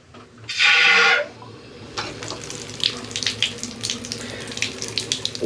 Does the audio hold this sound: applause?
no